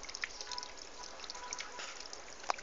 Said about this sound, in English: Graham's homemade water features